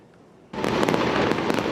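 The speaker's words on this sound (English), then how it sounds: "Like the fireworks look like a big flower." Fireworks bursting at a New Year's Eve celebration, a sudden loud onset of dense crackling and popping that continues steadily, with sharp snaps scattered through the roar.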